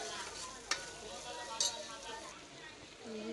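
Ginger garlic paste sizzles gently in a pan on low heat while being stirred for a Telangana boti curry, a soft steady frying hiss broken by two sharp clinks of the spoon against the pan.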